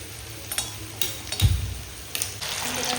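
Kebabs frying in hot oil in a home kitchen, a steady sizzle broken by a few sharp bursts and clatters as pieces are stirred or dropped in, close and fairly loud with no talking.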